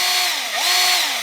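A Milwaukee M12 sander/polisher with an XC6.0 battery runs at its low polishing speed, a steady close whine with a slight dip in pitch midway, continuous and alone.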